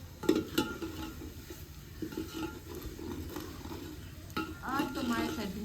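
Masala for chicken biryani sizzles and fries in a pot, with a spoon stirring and scraping against the metal now and then, fairly close and on its own.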